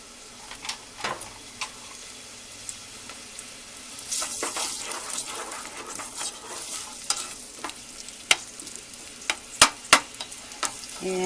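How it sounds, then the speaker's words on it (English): Onions sizzle in a couple of tablespoons of oil in a pot for lentil soup, a soft steady frying hiss broken by scattered scrapes and taps of stirring. "to that I'm going to add the onions. And I'm going to cook these until they are translucent."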